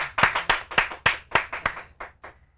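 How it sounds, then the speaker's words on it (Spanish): A small group claps for guests on a TV talk show: about nine crisp, separate hand claps in a loose rhythm, fairly close, growing quieter and thinning out toward the end, with no talk. "los recibimos con un fuerte aplauso"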